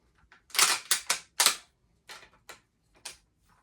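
Rifle bolt on a WW2-style German rifle being worked back, a quick series of sharp metallic clicks and clacks, close and clear against silence.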